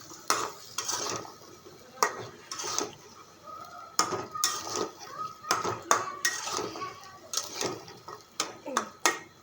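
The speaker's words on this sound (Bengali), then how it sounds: "কষানো হচ্ছে তো ঢেকে দিব" Utensil scraping and clanking in a pot as beef is sautéed (kosha) with jackfruit seeds, irregular close stirring knocks throughout, with some talk in the background.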